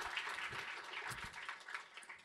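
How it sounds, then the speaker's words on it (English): Applause from a conference audience at the close of a sales and marketing event, faint and steady throughout, with no speech over it. "can we give them another round of applause?"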